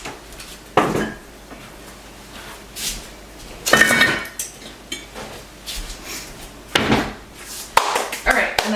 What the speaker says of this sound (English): So I'm going to set these back over here on the stove.